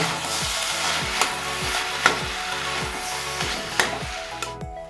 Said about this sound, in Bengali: এরপর আমি পুরোটাই খুব ভালো করে নাড়ব কষাব